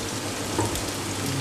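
Onions added to hot oil sizzle, a short, close burst of steady frying hiss with faint stirring, no talk.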